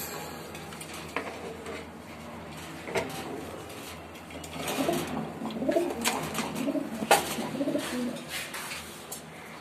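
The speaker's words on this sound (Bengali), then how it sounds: "জালি কবুতর" Pigeons coo softly at close range, with repeated low throaty calls and some faint scrapes and rustles in the background.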